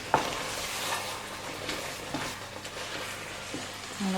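Vegan carbonnade sauce with melting gingerbread being stirred in a pan: a steady soft sizzle and bubbling with occasional scrapes and light knocks of the utensil against the pan, close and continuous.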